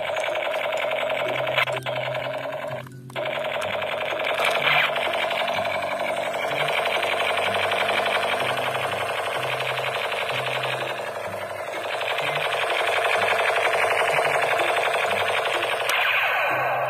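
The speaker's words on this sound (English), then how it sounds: "AK47 Spiderman gun." Toy Spiderman AK47 gun giving off a continuous buzzing electronic rattle of rapid-fire sound effects, loud and steady over about seventeen seconds with a brief pause near the start.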